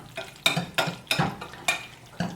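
Macaroni and shrimp stirred in a pan, with a utensil scraping through in five or six distinct strokes about half a second apart over a faint background sizzle.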